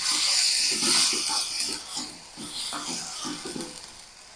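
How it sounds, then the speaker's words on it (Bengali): Spice masala with chilli, turmeric and coriander powders sizzles and hisses in a pan for a fish curry, a close, bright frying crackle with soft pulsing bubbling underneath. "মশলাটাকে ভালো করে কষিয়ে নেব"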